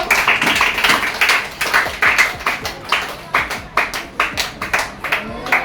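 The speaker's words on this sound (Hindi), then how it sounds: "तो भाई एक बार ताली बजाओ इनके लिए।" Students in a classroom clap for a classmate, a close, loud run of hand claps that settles into a fairly even rhythm, with some voices heard underneath.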